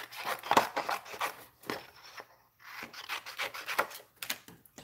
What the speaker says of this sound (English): So we're gonna punch our little ladybug out.